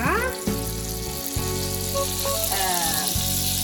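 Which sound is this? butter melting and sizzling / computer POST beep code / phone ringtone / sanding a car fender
butter melting and sizzling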